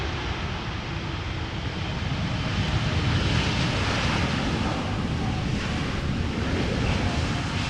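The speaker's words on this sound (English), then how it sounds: "777 from El Al arriving, but it's going to center." A steady, broad roar comes from an El Al Boeing 777 arriving at Amsterdam Schiphol Airport. The jet noise stays fairly even and moderately distant throughout, with wind rushing over the microphone.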